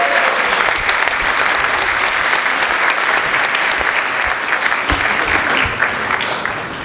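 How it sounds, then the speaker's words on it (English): A live audience at a Halloween Houdini séance event in San Francisco bursts into loud, sustained applause and cheering that stays dense and steady for several seconds before easing slightly at the end. "Come up here, give Pidge a round of applause."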